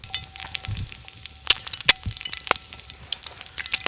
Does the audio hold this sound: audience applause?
no